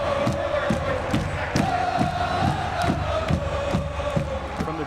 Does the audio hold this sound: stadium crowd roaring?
yes